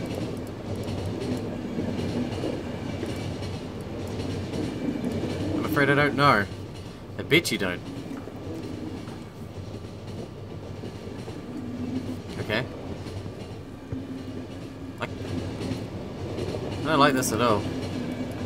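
A moving train in The Final Station video game rumbles with a steady rail-transport drone and occasional clicks and metallic squeals, running continuously beneath conversation between characters.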